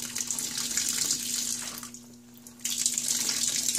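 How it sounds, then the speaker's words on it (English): Water streams and splashes into a sink as wet alpaca fleece in mesh bags is squeezed, a steady broadband rush that briefly eases in the middle before flowing strongly again. "Water's coming out not too bad for the first round here."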